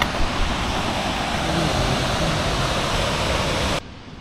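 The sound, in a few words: waterfall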